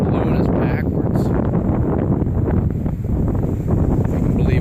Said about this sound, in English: it is windy as hell right now